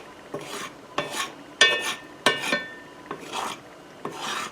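A spoon scraping and stirring a browning roux in a pan for Southern tomato gravy, heard as a series of close, rasping strokes with short pauses between them, alone without speech.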